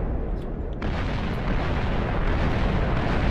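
Massive antimatter missile blast in Minecraft's ICBM mod, a sustained loud roaring rumble that swells after a brief quieter start and keeps booming steadily without letup.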